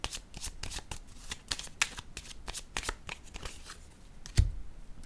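A deck of tarot cards being shuffled in a steady run of quick, crisp riffles and slaps close up, with one louder thump near the end and no talk.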